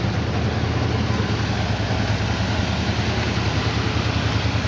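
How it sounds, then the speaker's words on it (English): A classic car engine running rough on bad gas after sitting unused, a loud, steady idle close by with uneven low chugging throughout and no distinct backfire pop standing out. "Backfire a little bit."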